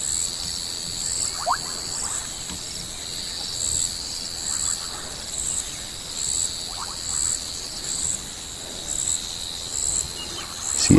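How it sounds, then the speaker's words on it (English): A dense night chorus of bubbling kassina and foam nest frogs: steady high-pitched trilling and clicking calls layered with occasional bubbling notes, continuous and mostly distant. "the most prominent one we're hearing now are the bubbling casinas"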